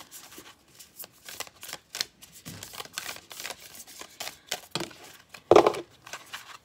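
Tarot cards are shuffled in a string of soft, papery riffles and slides, close and fairly quiet, with a louder snap of cards near the end and no voices.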